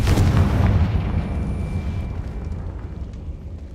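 A Confringo spell blast in Hogwarts Legacy bursts loudly at the start, then its deep boom rolls and fades over a few seconds, heard alone.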